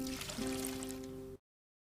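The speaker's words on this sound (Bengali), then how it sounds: "এখন পানি ঝরিয়ে নেব" Water drained off boiled beef steak pours out in a steady close stream, with a sustained liquid rush that ends abruptly.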